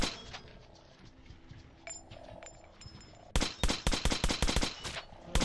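Gunfire in the video game Metro: Last Light: after a quiet stretch of low ambience, rapid loud shots crack out in quick repeated bursts, like automatic weapons firing at will.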